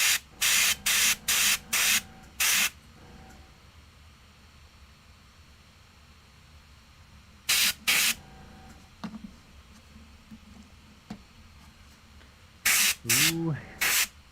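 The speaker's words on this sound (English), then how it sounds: "We're gonna get some fun airbrushing on this stream" An airbrush sprays paint onto a Warhammer 40k Catachan Jungle Fighter miniature in short sharp hissing bursts, clustered at the start, again midway and near the end, with quiet room tone and a faint sound between.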